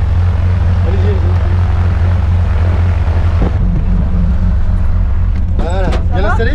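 A steady propeller aircraft engine drones loudly inside the cabin before a skydive. Near the end there are brief rustles and squeaky sounds. Talk under the drone is only slight.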